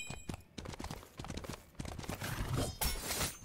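Hoofbeats from a horse mount ridden by the knight god Lancelot in the game Smite, a clip-clop rhythm of steps with some brighter clattering effects toward the end.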